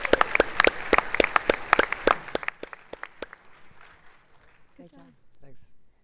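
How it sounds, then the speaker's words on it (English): An audience at the TechCrunch Disrupt 2025 tech conference claps in a sharp, loud burst that fades out after a few seconds, followed by a presenter speaking. "All right, one more round of applause for M-Body."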